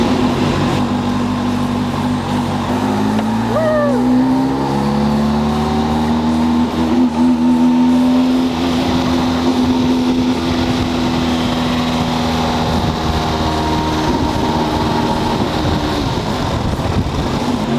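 A rally car engine drones loud and close from inside, its pitch climbing and falling through gear changes with a rough, steady roar and road rumble throughout.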